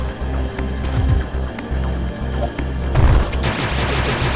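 Wave Beam shots fired in a Metroid 2 remake, a rapid run of punchy blasts over a low rumbling game soundtrack, with a brighter burst of noise about three seconds in.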